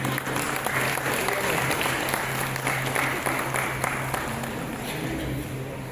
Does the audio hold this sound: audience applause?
yes